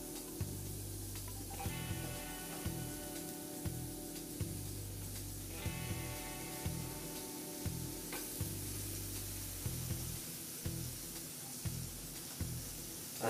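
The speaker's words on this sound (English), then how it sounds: "And we're gonna grill this a little bit. And we're also gonna put on some onions." Onions sizzling on a grill beside burger patties, a steady close hiss broken by regular scraping and tapping from a spatula, with no talking.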